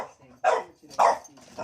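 A dog gives two sharp, fairly close barks with a softer third yelp, short and punchy, while a voice talks faintly underneath.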